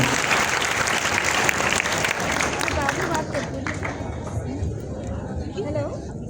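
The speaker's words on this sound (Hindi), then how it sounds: "तो भाई जांजेब के लिए ताली।" A crowd applauds steadily, the clapping thinning slightly toward the end while voices murmur underneath.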